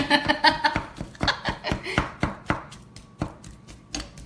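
Red skin potatoes are smashed with a wooden spoon in a kitchen, giving a quick run of sharp, close thuds and taps at an uneven rhythm that slows toward the end.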